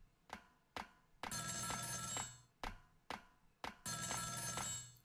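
A telephone rings in the video game Ghost Trick: Phantom Detective, with a loud bell trill in repeated bursts separated by short pauses and no talking over it.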